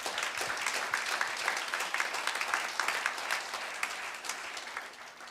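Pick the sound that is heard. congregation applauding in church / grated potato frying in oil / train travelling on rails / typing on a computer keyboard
congregation applauding in church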